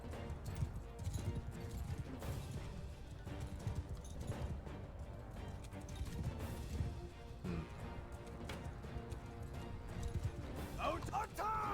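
Horses gallop through a battle in the Bannerlord video game, a busy rhythmic clatter of hooves mixed with clashing combat noise, with a voice calling out orders over it.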